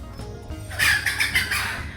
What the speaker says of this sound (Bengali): জানলা মেলা আকাশে উঠতেছে কবুতরগুলো দেখুন